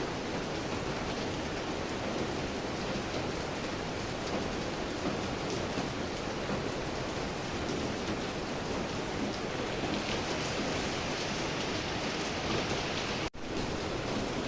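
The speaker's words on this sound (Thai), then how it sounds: "นี่ครับ มันก็ยังไม่หยุดนะครับ ฝน" Steady rain pours down continuously, a dense even hiss of drops on surfaces with no voices, broken only by a brief click near the end.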